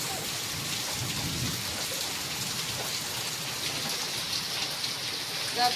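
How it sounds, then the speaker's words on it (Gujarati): Steady rain pours down with a low rumble of thunder rolling underneath, continuous and fairly loud throughout. "કડાકા બોલ્યા 2-3 ટાઈમ પાણી પડે"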